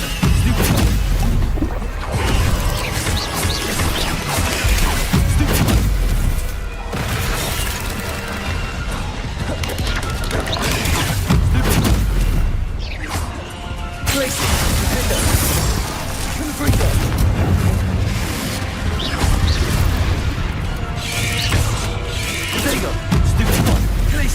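Spell-casting impacts in the Hogwarts Legacy video game, including Incendio and Expelliarmus, with loud continuous crashes, bursts and booming hits in a dense combat mix, with character voices heard throughout.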